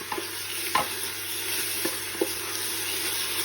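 Spinach cooks and wilts in a pan with a soft, steady sizzle, broken by a few light clicks of stirring.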